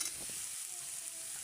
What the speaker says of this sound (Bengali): তেল দিয়ে একটু ভেজে নিচ্ছি